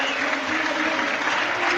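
Football fans at Loftus Road applaud a substitution during a Luton Town versus QPR match, a steady dense wash of clapping from a large stadium crowd, continuous for the whole moment.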